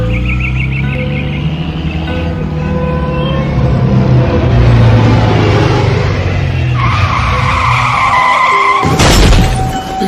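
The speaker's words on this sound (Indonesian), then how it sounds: "Tuh tingali mobil urang jadi rusak gara-gara didinya ngarem ngadadak" A car braking suddenly with tires skidding and squealing, then a crash with shattering glass as it hits another car, loud and close with no talking.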